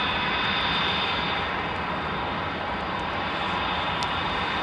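Propeller-driven engines of an older plane landing at Anchorage roar steadily and loudly with a droning buzz, holding constant throughout with no talking.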